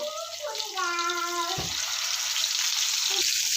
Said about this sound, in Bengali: তেল গরম হয়ে গিয়েছে মাছগুলো সব দিয়ে দেবো একে একে